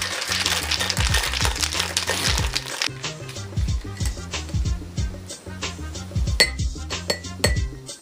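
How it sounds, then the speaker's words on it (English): Ice rattling hard inside a lidded cocktail shaker as an apple cider martini is shaken, rapid rhythmic clinks and knocks in repeated bursts with short pauses, loud and close. "Now I'm just gonna put my lid on my cocktail shaker and shake it up until it's cold."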